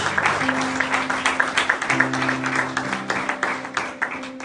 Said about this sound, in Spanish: ¿Cuántos pueden darle un aplauso a mi Jesús?